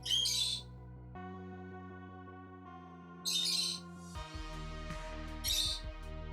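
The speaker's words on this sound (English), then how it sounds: "He wakes up the bird." A pet bird squawks in three short, sharp bursts, near and fairly loud, with sustained music playing underneath between and during the calls.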